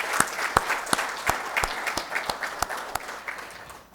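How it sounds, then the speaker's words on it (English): An audience at an Indo-Japanese photo festival award function applauds, a steady wash of clapping with a few sharp, rhythmic individual claps standing out near the microphone. "Let's give them a big round of applause."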